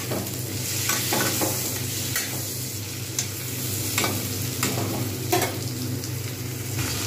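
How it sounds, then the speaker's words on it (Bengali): Potatoes sizzling in a pan with already fried onions, a continuous close frying hiss broken by repeated stirring scrapes, with no voices. "পেঁয়াজগুলো সুন্দর করে ভেজে নিয়েছি, এতেই দিয়ে দেবো এবারে আলুগুলো।"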